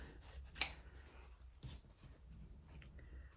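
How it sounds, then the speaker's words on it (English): Scissors snip through a scrap of quilting fabric, one sharp close cut followed by a softer snip, in a quiet room. "Now you're going to take your next fabric, cut off a scrap of it"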